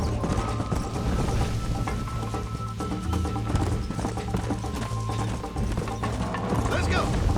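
A horse gallops in Red Dead Redemption on PlayStation 3, its steady clip-clop of hooves running continuously under game music and mechanical rattles.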